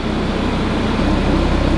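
A car engine idles just after a cold start, exhaust valves closed, with a steady, low hum evenly throughout, close and constant with a faint mechanical throb and no voices.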